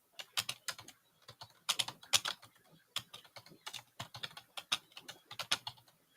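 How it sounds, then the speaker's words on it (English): Fingers typing on a computer keyboard, rapid irregular clacking keystrokes in bursts with brief pauses, close and clear, no voices. "Why am I typing?"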